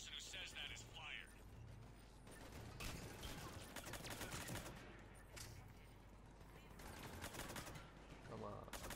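Scattered gunfire crackles through a Mass Effect 3 firefight, short bursts and single shots at moderate distance, with voices talking over the action and mechanical clatter mixed in.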